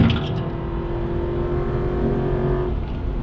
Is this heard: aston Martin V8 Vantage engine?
yes